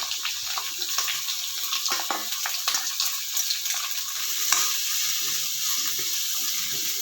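Onion with a couple of curry leaves frying for onion palya makes a soft, steady sizzle, broken early on by quick scraping stir strokes that thin out toward the end.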